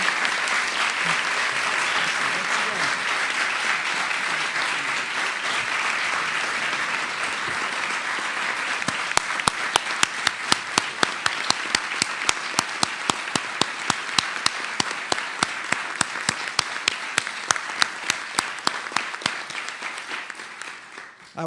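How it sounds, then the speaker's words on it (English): A National Press Club audience applauds a speaker, a dense steady wash of clapping that swells and carries on for about twenty seconds, with sharper individual claps standing out near the end. "How about a round of applause for our speaker?"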